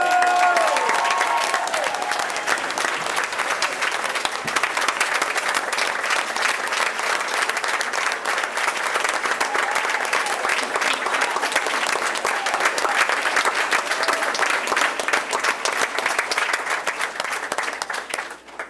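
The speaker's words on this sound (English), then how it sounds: "Can we get another round of applause for all our speakers?" A large audience at the KidSpeak 2017 event gives a long, sustained round of applause for all the speakers, dense clapping holding steady for nearly twenty seconds with a faint whoop or two near the start.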